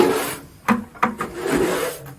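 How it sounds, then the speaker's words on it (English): A sheetrock knife scrapes thick sludge from inside an underground oil tank, giving a few close, rough rasping strokes with short pauses between them and no talking. "And we'll scrape it with a sheetrock knife."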